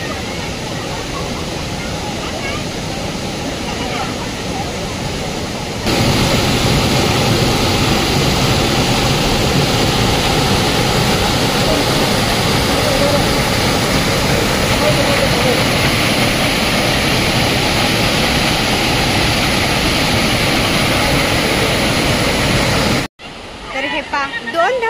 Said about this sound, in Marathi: तर हे पा 2 धबधब्याचं पाणी एकत्र होऊन खाली येतंय